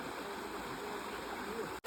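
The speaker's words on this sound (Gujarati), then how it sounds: "જ્યાં પાણી કેવું ભૂગવાટા મારે છે" River water rushing and gurgling during a river crossing in the Gir area, a close, steady, full wash of flowing water that cuts out for a moment at the very end.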